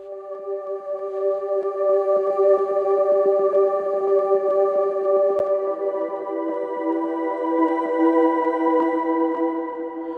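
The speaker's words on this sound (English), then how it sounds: "we'll take a look at the many pad sounds" A sustained ambient synthesizer pad holds a smooth, layered chord for about ten seconds, swelling slightly and shifting gently with no breaks.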